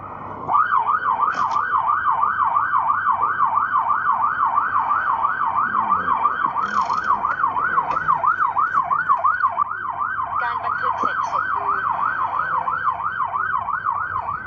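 A police car siren wails, cycling rapidly up and down without pause, loud and steady, with faint road noise underneath.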